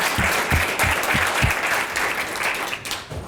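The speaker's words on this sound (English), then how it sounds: "So please join me in a round of applause for all his hard work." Conference audience at Scale By The Bay 2018 gives a tech talk speakers a round of applause: dense, fairly loud clapping that holds steady throughout.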